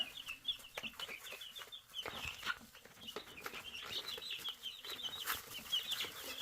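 Baby chicks squabbling as they settle a pecking order after being moved outside toward a coop, giving faint, rapid high peeping and small clucks that come in busy bursts over a quiet background.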